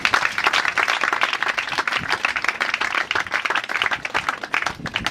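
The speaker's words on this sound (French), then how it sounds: "je demande d'applaudir très fort" A school assembly of students and guests claps hard and fast after a talk, a dense, lively burst of applause close by that fills the whole stretch.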